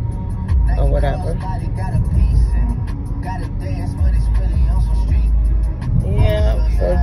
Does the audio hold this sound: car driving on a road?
yes